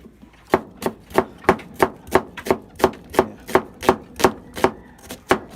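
A knife chops a purple onion on a board in steady, evenly spaced strokes, about a dozen crisp close knocks alone with no talk, for ackee and saltfish.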